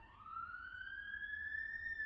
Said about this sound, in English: that siren go away?